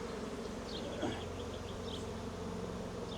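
Honey bees buzz at an open, productive hive in a Canadian apiary, a dense, continuous drone of many insects close by, with individual bees whining past now and then.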